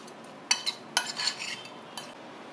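Marinated prawns being mixed with spices and salt in a bowl: a few light clinks and scrapes of a spoon against the dish, spaced irregularly and fairly faint, in a quiet kitchen.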